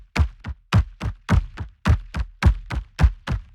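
Epic trailer drum rhythm built in the Berserkr Pro sequencer: about a dozen deep, punchy hits in a steady, slightly syncopated pattern, each with a booming low thud and a sharp attack, close and loud with no voices.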